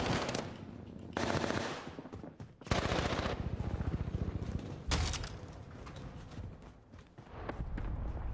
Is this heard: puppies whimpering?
no